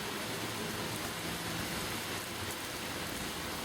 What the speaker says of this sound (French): Et c'est le déluge.